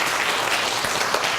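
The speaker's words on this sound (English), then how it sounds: "a huge round of applause for our chefs here, Chef Kid and Chef Angel." Audience applause for two young chefs at an Earth Month cooking event, a dense, steady clapping that fills the whole moment without pause.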